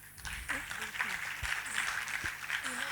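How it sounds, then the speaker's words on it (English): Audience applause for an orchestra at a classical dance festival felicitation, a soft patter of clapping heard under louder voices of people talking nearby. "A big round of applause to the orchestra tonight."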